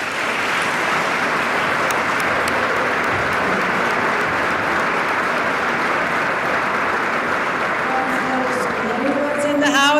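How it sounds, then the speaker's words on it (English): An audience at a State of the State address claps for the cabinet in sustained, dense applause that holds evenly for about ten seconds, with a voice starting to speak over it near the end. "Let's give a round of applause to the cabinet"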